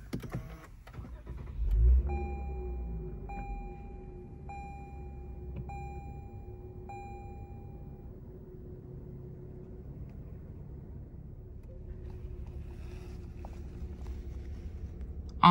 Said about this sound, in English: Let's go ahead and start the vehicle.